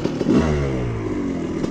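A Honda CR250 two-stroke dirt bike engine revs hard close by, a rising, crackling whine that climbs steadily then holds, with brief mechanical clatter at the start.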